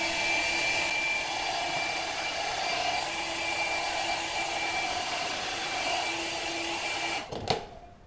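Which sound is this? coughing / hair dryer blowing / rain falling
hair dryer blowing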